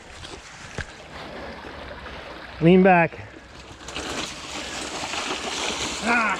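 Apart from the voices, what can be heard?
mountain bike riding through a river crossing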